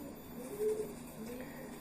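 A held pigeon gives a single soft, low coo partway through, close by, against a quiet room hum.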